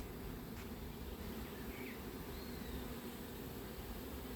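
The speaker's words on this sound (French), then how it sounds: "je vois des abeilles sur le rayon" Bees buzz faintly and steadily around a small comb left by a swarm in a bush, a soft continuous hum with no voices.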